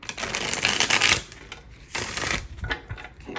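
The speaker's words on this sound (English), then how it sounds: "Nice shuffle." Tarot cards being riffled and shuffled in two crisp, close bursts, a long dense flutter followed by a shorter one, with no talking.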